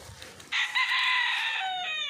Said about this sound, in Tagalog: daming mga manok dito, mga panabong